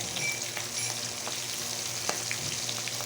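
Pabda fish pieces fry in oil, a soft, even crackling sizzle held close throughout, with an occasional light pop and no talk.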